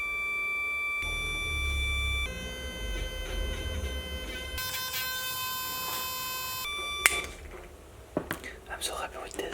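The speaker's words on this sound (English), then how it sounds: "To use the piezo as a buzzer, I just drove the same sine wave at higher frequencies." A piezo buzzer driven with a high-frequency sine wave gives a series of steady pure electronic tones that step between pitches, faint and close, followed by a few clicks and handling noises.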